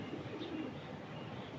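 Andijan pigeons cooing softly, a low continuous murmur of coos close by with no talk.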